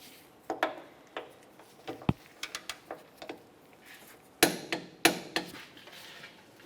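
A torque wrench tightens a control arm bolt to 74 foot-pounds on a 2005-2010 Chevrolet Cobalt. Close, sharp metallic clicks and knocks come in irregular bursts, with quiet gaps between them.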